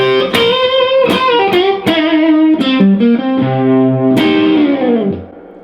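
Distorted electric guitar plays a classic rock bending lick, loud and close, with picked notes, pitch bends sliding upward and downward, and a final held note that rings out.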